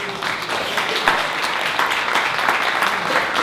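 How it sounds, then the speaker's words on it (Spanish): An audience applauds David, a steady patter of crowd clapping at a moderate, even level with a few sharper individual claps standing out. "un aplauso para David"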